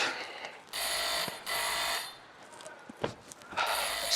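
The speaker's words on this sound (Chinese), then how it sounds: "电话响了。" A telephone rings on a comedy sketch stage, sounding in three bright electronic bursts with short quiet gaps between them, moderately loud and without talk.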